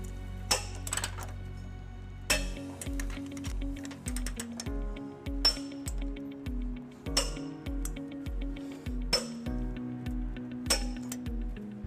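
A 22mm socket on a ratchet with a swivel head and extension tightens trailer hitch bolts on a 2019-2025 Honda Passport, with rapid, even metallic ratchet clicks in repeated bursts and sharp clinks between strokes.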